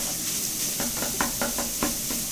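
Sausage browns in a pan for crock pot pizza soup, a soft continuous sizzle with rhythmic scraping strokes of stirring breaking through every half second or so.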